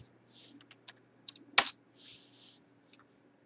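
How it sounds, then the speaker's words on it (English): Computer keyboard keys pressed for a shortcut, a few quiet separate clicks followed by one sharp louder keystroke, close and isolated with faint soft noise between. "pressing that icon, shift, and the button to the right of the M on your keyboard"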